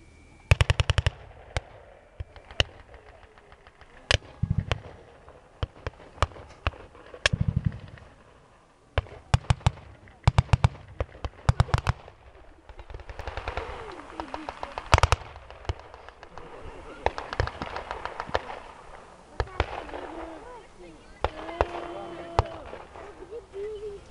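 Gunfire in a World War I battle scene: repeated bursts of rapid machine-gun-like shots and single cracks, some loud and close, others more distant, running through the whole stretch with brief pauses and a low rumble beneath.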